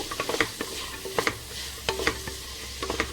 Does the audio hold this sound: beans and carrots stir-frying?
yes